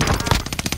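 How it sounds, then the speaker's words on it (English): A quick burst of enemy gunfire in Rebirth Island, Call of Duty, rattles off as several rapid shots in under a second, close and fairly loud. "I can't get up there without him shooting at me"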